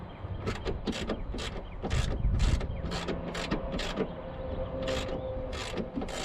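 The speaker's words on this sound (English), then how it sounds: "I already took a couple bolts out of this front one here" A hand ratchet clicks in quick repeated bursts while loosening bolts on the alternator of a 1997 Cadillac Seville SLS with a Northstar engine, close up and steady, with no talk.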